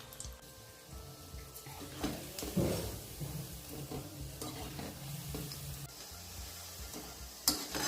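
Gujarati muthadi dough balls for undhiyu frying in hot oil over a medium gas flame, a steady close sizzle with stirring clatter and a few sharper bursts, no talking.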